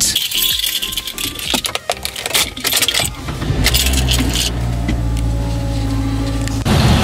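Street traffic in Jamaica, a steady roar of car engines and rumble with clinks and rattles, continuous and fairly loud throughout, no talking.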